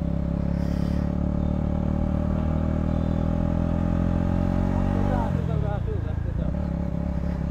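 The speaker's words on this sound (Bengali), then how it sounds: "তো এই মুহূর্তে আমরা বেরিয়ে পড়লাম বাইকে" A Royal Enfield Bullet motorcycle rides along at a steady, loud engine drone with a shift in pitch near the end, recorded close up with wind rumble.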